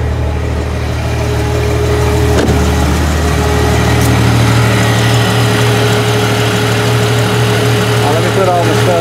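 A Jeep XJ engine idles steadily up close, a constant low rumbling hum that stays even and loud from start to finish.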